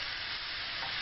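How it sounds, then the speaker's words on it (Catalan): Aubergine and meat seasoned with black pepper, salt and nutmeg sautéing in a pan for cannelloni filling, a steady dense sizzle with stirring throughout, close and continuous with no talking. "Ara això se mos sofregeix."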